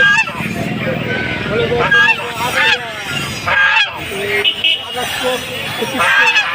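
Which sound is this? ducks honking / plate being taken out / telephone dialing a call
ducks honking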